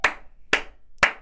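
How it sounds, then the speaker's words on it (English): Three sharp, evenly spaced claps from a single person, close and distinct, with silence between each. "Everybody, round of applause, yeah."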